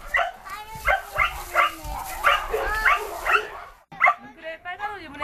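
A puppy in a family home barks and whimpers in a rapid string of high yips and whines, close and loud, with a brief pause before more yelps.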